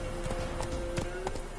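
The horse Roach gallops in a video game, its hooves clip-clopping in a quick, steady rhythm at moderate loudness over a faint tonal hum.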